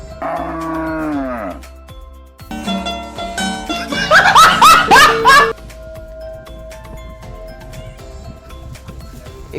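Cattle moo in a run of several loud, close, drawn-out calls, the strongest bellows bunched mid-way before the animals fall quiet over a faint background.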